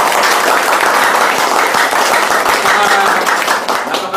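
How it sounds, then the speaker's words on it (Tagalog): Loud, dense applause from an audience at a presentation event, continuous clapping for the full stretch with a voice faintly under it. "Isang malakas na palakpak para kay Sir Ronald"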